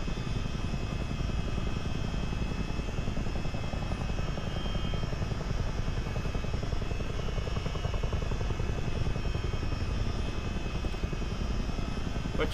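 CH-47D Chinook helicopter flying in a multiplayer flight video game over the Great Lakes, a steady loud rotor thrum and engine drone that continues evenly throughout.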